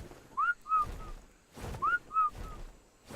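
A pair of short rising-and-falling whistles sounds twice in a repeated pattern in Ark: Survival Evolved, clear and moderately loud against a faint background.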